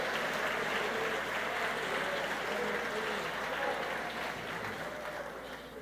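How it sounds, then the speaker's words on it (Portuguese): Church congregation applauding together in a sustained, dense wash of clapping that fills the room, with faint voices and a low hum underneath, gradually tapering slightly toward the end. "Aplauda o nome do Senhor, aplauda o nome do Senhor."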